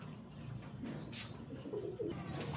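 KTM Teddy pigeons coo softly in a loft, several low rolling coos over a steady background hum, with a brief faint chirp partway through.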